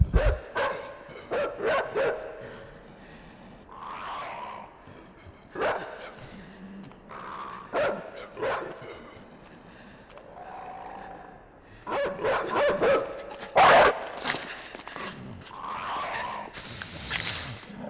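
Dog barks in the video game Inside come in repeated sharp bursts, loud and close with pauses between, over a low game ambience, with no speech.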